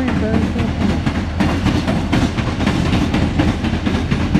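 Close and loud, a CSX westbound local freight train backs through Marion, Ohio, wagons rumbling past with rhythmic wheel clatter on the rails, and a voice faintly mixed in beneath the noise.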